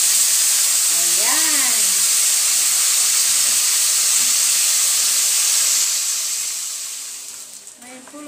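Garlic drops into hot oil in a pan and sizzles with a loud, steady hiss that holds for several seconds and then fades, while someone speaks briefly over the cooking.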